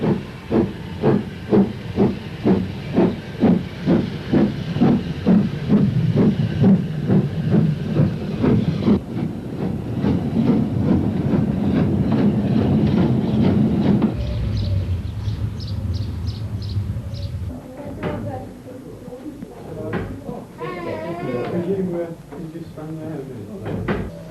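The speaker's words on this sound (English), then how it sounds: "A former British Railways standard tank loco, built at Brighton in 1954, leaves with a southbound train taking the gradient in its stride." A British Railways standard tank steam locomotive, built at Brighton in 1954, pulls a southbound train up a gradient: loud rhythmic exhaust beats and hissing steam, then rolling wagons and rail noise as it passes, with a whistle-like tone near the end.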